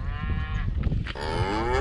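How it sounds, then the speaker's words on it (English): Cattle moo loudly and repeatedly at close range, long low calls with strong harmonics stretching across the whole moment, seemingly from several animals along a Rocky Mountain roadside. "Killer cows are getting angry."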